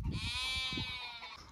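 A goat on a farm in Saudi Arabia gives one drawn-out, wavering bleat, close and fairly clear against a little low background noise.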